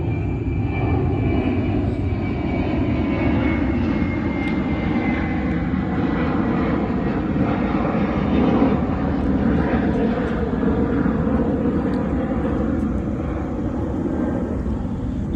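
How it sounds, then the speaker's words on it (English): A loud, steady airplane engine drone fills the whole stretch, a constant roar with no pauses. "we use these really noisy engines in airplanes"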